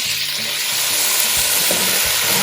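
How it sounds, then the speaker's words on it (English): Chopped small Eastern potatoes drop into a hot soup pot, setting off a loud, continuous sizzle and crackle of frying, with a few soft clunks as the cubes land and are stirred. "Okay, I'm adding potatoes."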